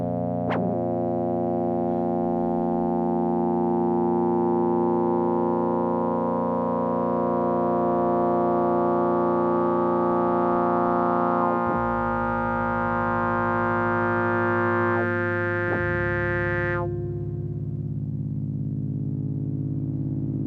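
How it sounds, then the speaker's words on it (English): A Casio CZ-101 synthesizer holds a sustained tone that starts as a pure sine and gradually bends into richer waveforms, with harmonics shifting in two stages before the note cuts off near the end. "we're starting with the sine wave, which is slowly being bent into the two waveforms we chose earlier on"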